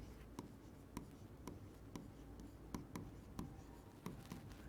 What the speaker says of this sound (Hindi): तो मैं यहां पे लिख रहा हूं